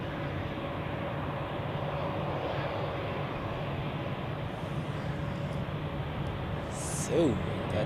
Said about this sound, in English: that was the first A330 departure of the day